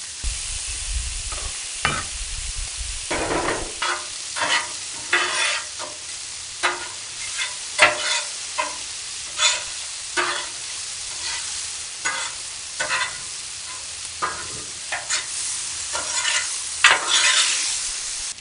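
Bacon sizzles on a seasoned Blackstone griddle while a spatula scrapes and pushes it around in frequent rhythmic strokes over a constant frying hiss, close and fairly loud, with no talking.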